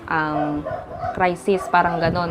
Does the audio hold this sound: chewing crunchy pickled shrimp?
no